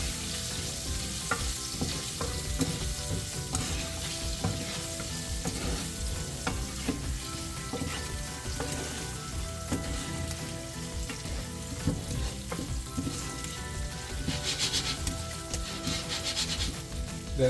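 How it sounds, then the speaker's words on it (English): Potato poha mixture sizzling and frying in a pan while being stirred steadily, with continuous close scraping and stirring strokes over a constant crackling sizzle, no voices. "Then you're gonna stir everything up."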